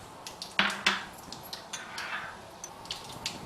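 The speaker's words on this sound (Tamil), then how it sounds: "இப்போ பாருங்க, சூடாயிருச்சு. அதுல கடுகு நான் போட்டுக்கிறேன்." Mustard seeds dropped into hot oil in a pan for a Tamil potato sabji crackle and pop as a series of sharp clicks, with two louder knocks early on, over a low hiss and no talking.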